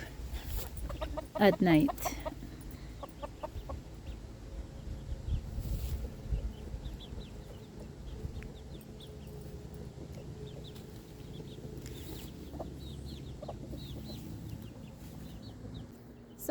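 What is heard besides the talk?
chickens clucking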